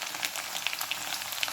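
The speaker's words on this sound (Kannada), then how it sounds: "ಈಗ ಬೆಳ್ಳುಳ್ಳಿಯನ್ನು ಹಾಕ್ಕೊಳ್ತೇನೆ" Garlic frying in hot oil with a steady, bright crackling sizzle throughout, scattered little pops rising from the pan, close and unbroken.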